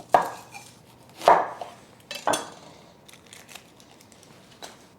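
A knife chops through half of a jumbo red onion on a board, cutting thin half moons: three sharp, close strikes, then a couple of softer cuts with short pauses between them.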